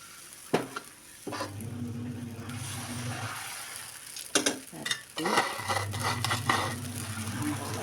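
Uthappam batter poured onto a hot pan gives a crackling sizzle that comes and goes, with a few sharp clinks and scrapes of utensils between the frying bursts, close and fairly quiet.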